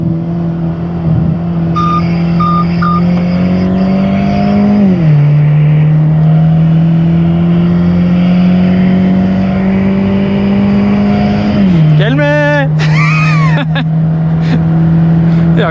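A Mercedes C180 fitted with a turbocharged E250 engine making 240 hp roars steadily and loudly, its pitch climbing and dropping with gear changes, with a horn-like honk near the end.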